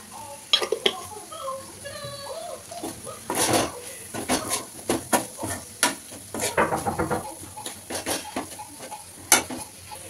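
A spoon clinks and scrapes against a pot as egg curry is stirred, giving a series of irregular metallic taps over a soft sizzle, close by, with a few brief voice sounds in the background.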